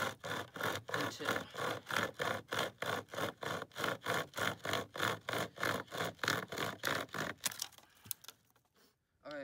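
A branch being sawn in two outdoors while preparing a fire, about twenty even back-and-forth saw strokes in a fast steady rhythm, close and clear, then stopping with a few faint rustles.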